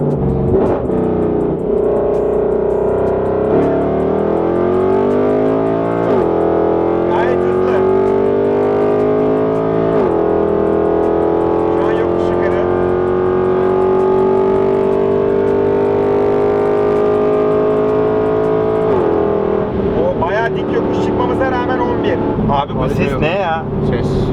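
A Mercedes-Benz C63 AMG engine revs hard through repeated upshifts during a high-speed run, each gear climbing in pitch before a brief dip, loud and close with a droning, distorted cabin tone and occasional talk underneath.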